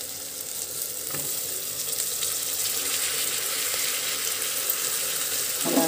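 Ingredients with finely chopped coriander frying for rajma biryani, a continuous close sizzle and crackle with occasional stirring clinks, steady and fairly loud.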